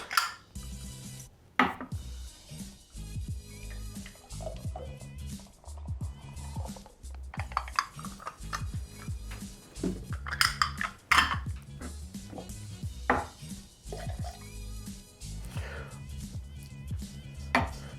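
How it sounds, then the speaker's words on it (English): A lime cut in half on a chopping board while making a Moscow Mule cocktail, with sharp knife knocks on the board, light clinks of bar utensils and squeezing, heard close up and without talk. "All right, so just chop that in half, give it a bit of a squeeze."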